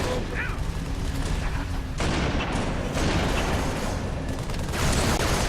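Gunfire in the Halo video game's Sierra 117 mission, with dense, continuous bursts of shots and booming impacts that fill the whole stretch without a pause.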